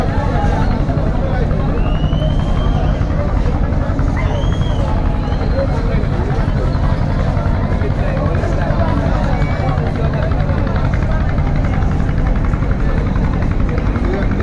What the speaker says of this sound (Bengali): যাচ্ছে ব্যাক গিয়ার দিয়ে পারাবত 12 লঞ্চ।